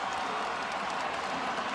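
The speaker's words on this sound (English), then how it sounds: "Listen to this crowd in North." A basketball arena crowd at a Villanova at Seton Hall game roars steadily, a dense, loud wall of cheering and applause that holds throughout.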